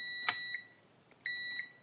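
Roborock S7 robot vacuum gives electronic beeps when pressed, a steady tone at the start and another after a pause, with faint clicks between, close and quiet.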